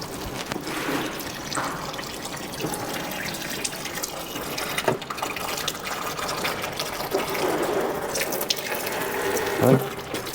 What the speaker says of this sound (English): Got the gearbox draining.